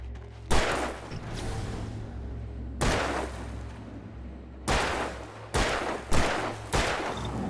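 Gunfire in the video game Alan Wake: five sharp, loud shots spaced irregularly over a steady low game-ambience drone, each with a short reverberant tail.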